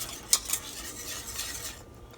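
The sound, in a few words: whisking cheese sauce with a whisk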